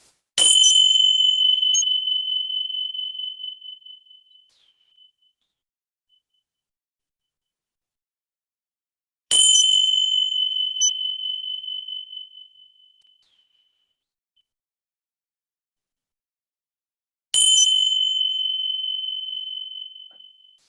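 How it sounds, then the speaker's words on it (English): Three small ringing bells for a yoga listening exercise, each struck alone and left to ring out in a clear, high shimmering tone that decays over several seconds, with long silent gaps between strikes. "These are my magic listening bells"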